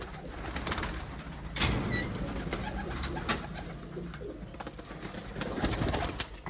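Pigeons cooing close by in low murmuring calls while feeding on grain and water, with rustling, pecking and flutters mixed in over a steady background bustle.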